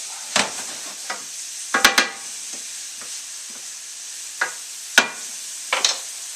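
Sausage frying in a hot pan gives a continuous thin sizzle, broken by sharp, scattered scrapes and clacks of a utensil moving the meat around, heard close and without talk.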